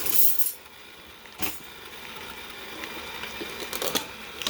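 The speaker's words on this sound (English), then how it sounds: "We're gonna start whipping it and then add in our secret ingredients." Mashed potatoes being whipped in a bowl, giving a steady, fairly quiet mechanical whir with clicks and clinks scattered through it, and a couple of sharper knocks.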